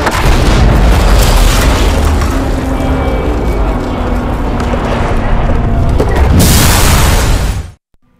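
A loud, sustained bazooka explosion booms and rumbles for several seconds in the video game Hitman: Absolution, filling the mix before cutting off abruptly.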